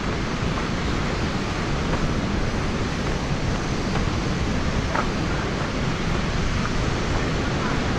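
Khone Phapheng waterfall in southern Laos roars as a loud, unbroken wash of rushing water, steady throughout with wind buffeting the microphone.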